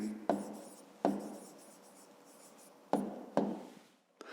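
Pen or pencil writing by hand on paper during a fifth-grade geometry exercise, heard as a few short, close scratching strokes separated by quiet pauses.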